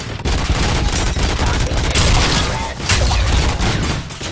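Heavy sustained gunfire from RoboCop: Rogue City, rapid automatic shots and impacts packed tightly together, loud and close throughout with hardly a pause.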